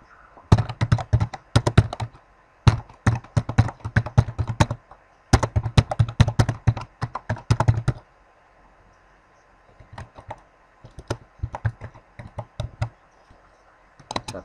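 Rapid bursts of typing on a computer keyboard as an address is entered, close and clear, with short pauses between clusters of keystrokes and a quieter patch of lighter taps near the end.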